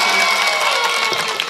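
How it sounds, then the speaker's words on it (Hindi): Dense, loud audience applause with some cheering fills the hall at an All India Mushaira in Unnao, steady and continuous throughout. "एक बार इनके हक में जोरदार तालियां बजाकर मुझे इजाज़त दें।"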